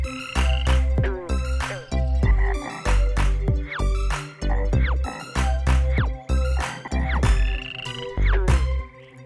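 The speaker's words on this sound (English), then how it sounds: "A green frog rivets real loud" Loud, close green frog croaks in a steady repeating rhythm, several calls per second, with a nursery-rhyme musical backing underneath.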